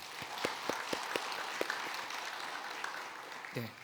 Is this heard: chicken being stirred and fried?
no